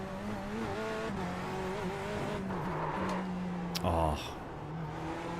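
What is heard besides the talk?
tyre lock-up skid in iRacing at Snetterton, video game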